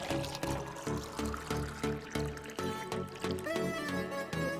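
Water pours into a pressure cooker holding chana soaked overnight, a steady splashing fill with a pulsing, repeated rhythm, close and fairly quiet.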